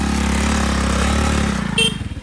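A motorcycle engine runs close by on a road in South Goa, a loud steady drone that shifts and rises near the end as the bike moves past. No one speaks.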